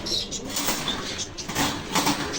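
Pigeons at a pigeon market in Khulna coo softly while wings flap in bursts, set against a dense, steady background of market bustle.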